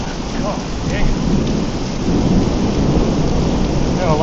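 Heavy rain pours steadily during a thunderstorm, with rolling thunder rumbling underneath, loud and continuous with no voices.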